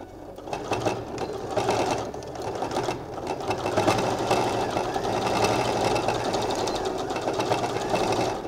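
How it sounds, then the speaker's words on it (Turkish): A sewing machine runs steadily through a fabric seam along a folded-in edge, its rapid mechanical stitching chatter continuous and close for the whole stretch with no talking. "Oradan bir dikiş geçeceğim."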